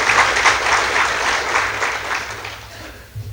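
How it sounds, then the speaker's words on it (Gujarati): An audience applauds at a Gujarati community event for the inauguration of a student hostel, a loud, dense burst of clapping from many hands that holds steady and then tapers off. "જોરદાર તાળીથી બધા."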